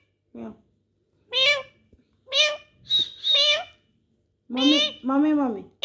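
A pet parrot imitates a cat's meow, giving a string of about six or seven close, clear, rising-and-falling meow calls in separate bursts with short pauses between them.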